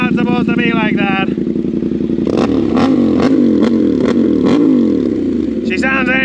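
An unmuffled big motorcycle engine, sitting in neutral with its pipe broken off, throttled through roughly six sharp, loud revs that rise and fall close by, with voices talking over the idle before and after.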